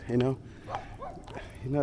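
Neighbourhood dogs barking and yipping while defending their territory, with several short close barks and whines heard alongside someone talking.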